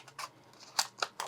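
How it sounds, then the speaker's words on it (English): Non-stick scissors trim paper for a paper Easter lantern craft, giving four or five crisp, close snips in quick, uneven succession. "Let me grab these scissors, these non-stick scissors. I'm just going to go in here and trim this right here."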